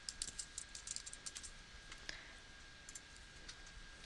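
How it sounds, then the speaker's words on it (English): Typing of a username on a computer keyboard, a quick irregular run of crisp close clicks, denser at the start and then spaced out, heard alone in a quiet room. "and then type in your username"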